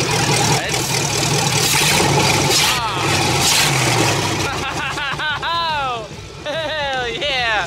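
An LS-swapped Mustang engine cranks and catches, then idles rough and loud up close, while people shout and cheer over it.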